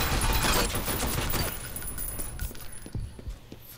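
Automated turret firing in the shooter F.E.A.R. Perseus Mandate, a loud rapid burst of gunfire that fades into scattered rattling shots and metallic clinks.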